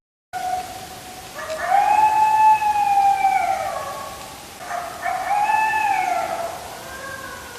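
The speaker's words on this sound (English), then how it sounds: "while the coyote is howling" A coyote howls in two long rising-and-falling calls with a short break between them, clear and moderately loud over steady background hiss.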